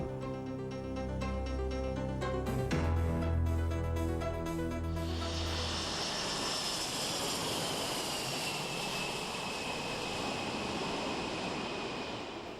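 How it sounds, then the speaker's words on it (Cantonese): A jet airplane at Kai Tak Airport in Hong Kong, a loud roaring engine that starts with a tonal whine, then turns into a broad steady rushing that slowly fades. "而家每日平均有450班飛機喺啟德機場升降"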